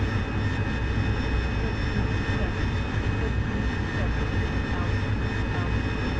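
Jet aircraft engine in the DCS World flight simulator drones steadily and loudly throughout, a continuous roar with a faint high whine, no breaks.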